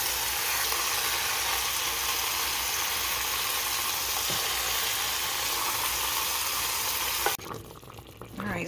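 Meat sears in a hot pan with a loud, continuous sizzle that holds steady for about seven seconds before dropping off abruptly, with a few faint clinks afterward.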